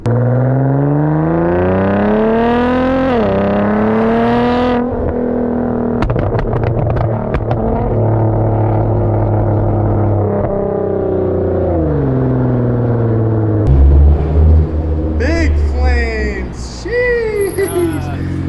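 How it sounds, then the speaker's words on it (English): A flame-throwing 2016 Nissan GT-R revs hard, its engine tone climbing and falling in long sweeps, with a burst of sharp exhaust pops and crackles near the middle as flames shoot out, loud and close throughout. "Ah, he's still shooting flames."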